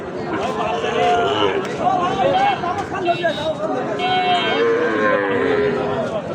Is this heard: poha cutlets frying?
no